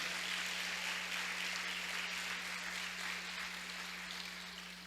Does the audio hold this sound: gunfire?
no